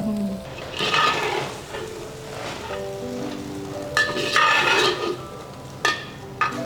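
Rice being stirred and fried in a pan with mango and pointed gourd, a steady close sizzle with scraping strokes of the spatula, alongside brief talk.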